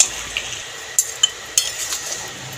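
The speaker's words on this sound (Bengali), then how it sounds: "এই মশলাটা এবার দিয়ে দেবো। নাড়িয়ে চাড়িয়ে নামিয়ে নেব।" Ground spice masala being stirred into dhaniya chicken in a pan, heard as a few sharp metallic clinks and scrapes of a spoon against the pan over a quiet background.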